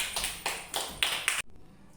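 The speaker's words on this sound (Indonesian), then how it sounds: "tepuk tangan" Students in a classroom clap hands in about five sharp, evenly spaced bursts, close and loud, then stop abruptly into quiet.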